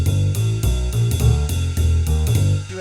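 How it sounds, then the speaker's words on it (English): Accordion left-hand bass line plays a steady, rhythmic run of low, punchy bass notes with repeated attacks, loud and alone with no voices. "Then on the left hand, I have bass line."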